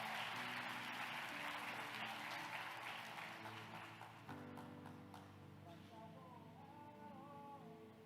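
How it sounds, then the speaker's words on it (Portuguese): A church congregation applauds in a dense wash of clapping that fades after a few seconds. Sustained musical tones and a melodic line carry on underneath and continue alone. "Aplauda o Senhor mais uma vez"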